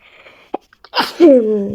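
A short sharp sneeze bursts out close by, after a few faint clicks and breaths, and trails into a drawn-out voiced exhale.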